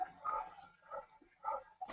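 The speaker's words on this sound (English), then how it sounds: "Like, heavy panting, definitely a dog." A dog panting heavily nearby, several breathy bursts in an uneven rhythm, fairly faint, with no talk over it.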